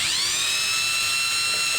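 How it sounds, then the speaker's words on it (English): A power drill with a 1/4 inch bit whines steadily at high pitch while boring holes for a carbon fiber front lip on a BMW F30, a close, continuous drone with no talk. "I'm using a 1/4 inch bit to drill my holes here."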